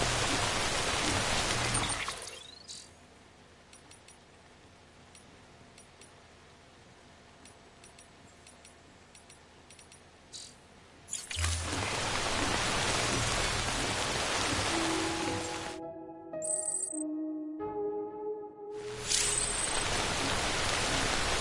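Rain falling in the video game Death Stranding, a steady hiss that drops to a quieter patter in the middle, then returns loud alongside brief tonal game sounds, with no voices.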